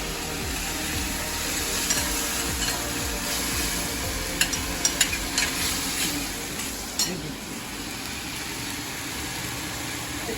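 Cumin seeds, bay leaf and hing fry in hot oil for a potato curry, giving a steady, loud sizzle throughout with a few sharp crackles and pops near the middle. No one speaks.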